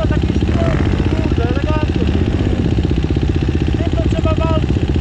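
A motorcycle engine idles close by with a steady, fast low putter, while someone talks over it.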